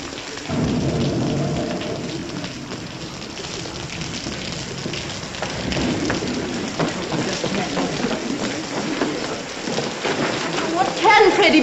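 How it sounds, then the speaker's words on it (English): Steady heavy rain pours down with a low rolling rumble of thunder beneath it, constant and enveloping, in the 1938 film Pygmalion. "Looks like rain."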